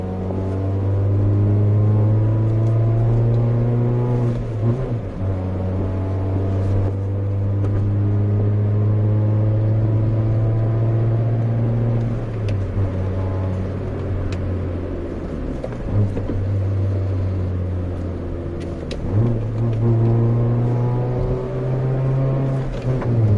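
Hyundai Verna fitted with a Remus valvetronic exhaust, valves opened by remote, holding a loud deep droning idle with a few swelling revs and dips, close and continuous with no voices.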